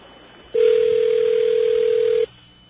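A telephone rings on a radio call-in line, heard as a single loud, steady electronic tone lasting nearly two seconds and then cutting off abruptly, alone against faint background noise.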